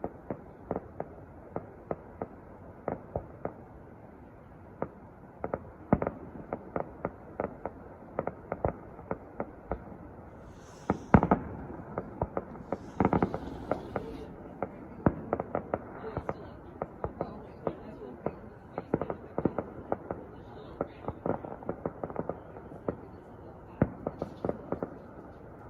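A fireworks show goes off in the distance, with a long irregular series of sharp pops and crackling bursts over a steady low background hum, some louder than others.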